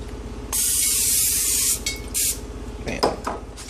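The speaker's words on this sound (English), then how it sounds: "We will spray a little bit of the cooking spray in there as well." Cooking spray hisses from an aerosol can into a pan, one long burst followed by a short second spray, then light clinks of cookware.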